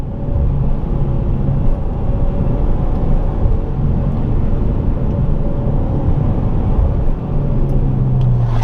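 Peugeot 208 GTI with the 200 hp engine pulling hard on the road, a loud, steady engine roar and rumble that holds throughout with slight dips, heard from inside the car with no talk.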